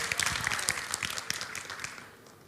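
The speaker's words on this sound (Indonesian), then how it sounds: "Beri tepuk tangan buat Vicky." Church congregation applauding at a Sunday service, a dense, steady wash of many hands clapping that fades gradually toward the end.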